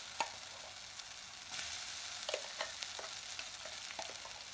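Greens (saag) frying village style in a pan, probably over a clay wood-fired stove, a soft steady sizzle broken by scattered light clicks and stirring taps, no talk.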